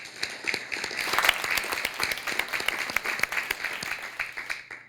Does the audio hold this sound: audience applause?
yes